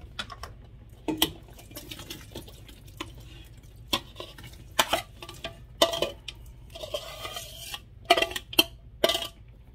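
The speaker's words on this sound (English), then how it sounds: "I'm going to put this in my pan" Pineapple salsa being spooned into a pan, a series of wet plops, clinks and scrapes at irregular intervals, close and moderately quiet with short pauses between.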